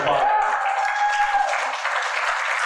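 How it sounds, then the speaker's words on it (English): An audience at a cryptocurrency bank kick-off event in Toronto claps and applauds loudly and continuously, with cheering voices over the clapping. "Give that round of applause."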